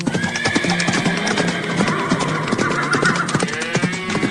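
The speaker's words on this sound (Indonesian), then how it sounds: "Oh tidak, kuda-kudanya malah berlarian kencang, debunya sampai berterbangan kemana-mana." Horses whinny and gallop across a field with dust flying, with high neighs above a busy, steady rumble of hooves.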